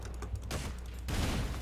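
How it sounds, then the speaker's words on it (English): A quick burst of several sharp, crackling blasts, fairly faint, followed by a rushing roar of debris. "Ooh, explosions. Ooh, another one."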